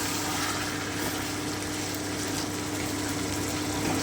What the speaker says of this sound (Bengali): এবারে আমি ম্যারিনেট করা বাটি ধুয়ে একটু জল দিয়ে দিচ্ছি